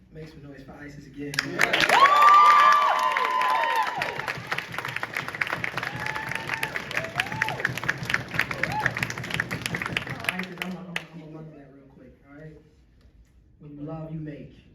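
Audience applauding and cheering for a spoken word artist at a live performance, a swelling burst of clapping with whoops and shouts that lasts several seconds then fades, with a voice speaking over the crowd near the start and end.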